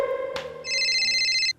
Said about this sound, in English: So Demon, give me like the phone ringing.